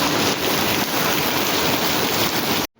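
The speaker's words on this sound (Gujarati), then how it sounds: "બહાર તો જોરદાર વરસાદ ચાલુ છે" Heavy rain pours outside in a dense, unbroken hiss that stays loud and even, then cuts off sharply at the end, with no voices.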